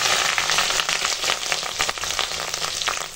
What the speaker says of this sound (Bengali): তো চলো ডিমটা এবার ভেজে নেব